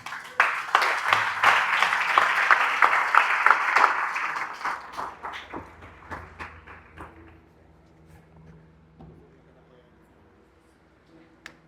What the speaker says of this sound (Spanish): Si va a aplaudir, apláudele, hermano.